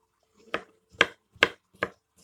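A knife chops çıntar (Kanlıca) mushrooms into small pieces on a board, five crisp, evenly spaced cuts heard close up and alone.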